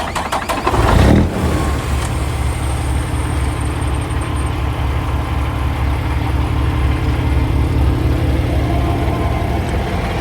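A Peterbilt 389 truck engine cranks and catches after a remote start, then settles into a steady, loud diesel idle with a low rhythmic throb that runs on alone.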